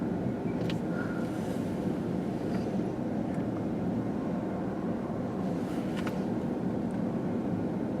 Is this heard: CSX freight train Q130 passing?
yes